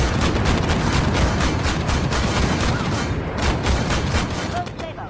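An M2 Bradley fires its gun in the tank game Armored Warfare, a dense, loud run of rapid shots over a rumbling engine that fades slightly at the end.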